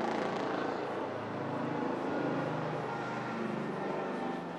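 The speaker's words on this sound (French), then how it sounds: "un hélicoptère passe au-dessus de nous" A helicopter passes overhead during an air show opening ceremony at Châteauroux, its broad rotor and engine roar steady and loud throughout.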